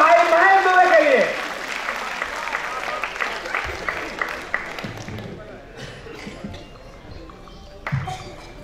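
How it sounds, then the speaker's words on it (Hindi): An audience at a Hindi kavi sammelan applauds the poet Mahesh Dubey. A voice leads in briefly, then scattered claps follow and fade to sparse, irregular taps, with a short burst near the end. "जोरदार तालियां भाई महेश दुबे के लिए।"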